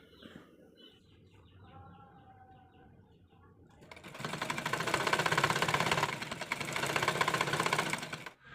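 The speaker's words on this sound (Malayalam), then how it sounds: "ഞാൻ ദേ ഈ ഒരു പോയിന്റ് മുതലാണ് സ്റ്റിച്ച് ചെയ്ത് തുടങ്ങുന്നത്." Sewing machine stitching fabric for a pocket on a kurti, starting with quiet handling and a few faint taps before the motor kicks in at about four seconds into a loud, steady, close-up whirring run that lasts to the end.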